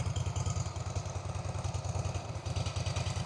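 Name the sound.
Harley-Davidson Softail Slim motorcycle engine with stock exhaust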